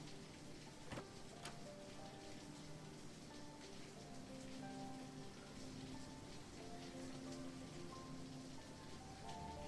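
Steady rain falls in a visual novel video game, a soft, continuous hiss with scattered drop ticks. It is faint, with quiet tonal layers underneath.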